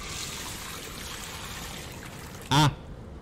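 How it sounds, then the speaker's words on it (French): Water runs from a tap opened in the puzzle game Le Prisonnier Quantique, inside a hydroelectric plant: a constant, even stream of gushing noise, broken near the end by a short, sharp tonal squeal. "Ce robinet devrait être plus facile à ouvrir."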